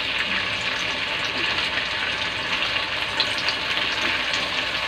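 Garlic and onion with oyster sauce fry in a pan, giving a steady, close hiss of sizzling oil that runs unbroken throughout.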